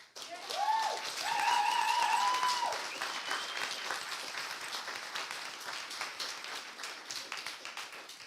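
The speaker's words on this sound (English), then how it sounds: "can we get a round of applause?" Audience applause at the FACE Summit 2023 conference, a dense wash of clapping that swells early and holds steady for several seconds, with a brief tonal whistle or cheer near the start.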